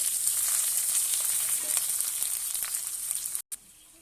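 Chilli and onion tossed into hot oil in a pan with black cumin and garlic for a ridge gourd peel paste dish, giving a loud, steady, close sizzle that drops out for an instant near the end.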